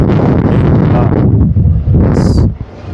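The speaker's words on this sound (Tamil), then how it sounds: "அந்த பாருங்கள் வெளில ஃப்ளோ வருது காற்று சவுண்டு கேட்குதாங்க" Air rushes out of an inflatable play structure at an outdoor exhibition, a loud, steady roar that fills the whole clip close to the microphone and eases slightly near the end.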